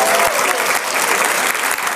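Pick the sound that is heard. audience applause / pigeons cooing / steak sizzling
audience applause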